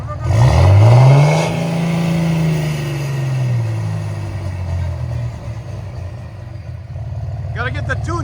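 A 2006 RAM 2500 with a 5.9L Cummins diesel, bed stack and straight pipes revs hard up close, a deep surging roar that drops back to a rumbling idle, with voices faintly beneath.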